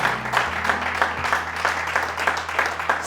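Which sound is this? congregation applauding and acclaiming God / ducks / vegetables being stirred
congregation applauding and acclaiming God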